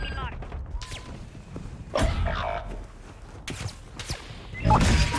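Gunfire and battle noise in Call of Duty Warzone, with scattered sharp cracks and bursts over a busy game mix, while a radio-style voice speaks over the action.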